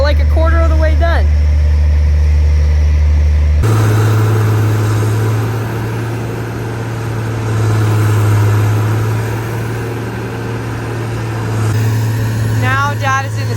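A skid steer engine runs with a loud, steady low drone that rises in pitch partway through and then holds a constant rumble, close by, with brief voices or chirps at the start and end.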